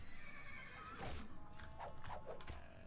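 A zebra in modded Minecraft lets out a series of horse-like whinnying neighs, several short bursts spread across a couple of seconds, fairly close and clear, with a faint hoof-like clatter beneath.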